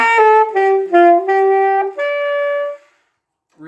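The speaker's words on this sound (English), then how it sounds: "So if we have a faulty embouchure, it would sound something like this." A woodwind instrument played with a faulty embouchure, giving a series of sustained, harmonically rich notes that sound flat, loud and close, with the phrase ending around three seconds in before a brief new note.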